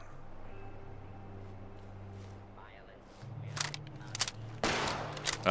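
Protectron robots in Fallout 76 open fire, a few sharp bursts of gunfire cracking out in the last couple of seconds after a quieter stretch of low game ambience, with a voice talking briefly.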